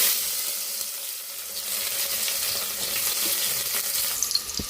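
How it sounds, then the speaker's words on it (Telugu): Green chillies and onions frying in hot oil for a chicken pulao, a dense, loud hissing sizzle that holds steady throughout at close range, with no talking. "పచ్చిమిర్చి ఉల్లిపాయ అయితే బాగా వేయినాయి కదా"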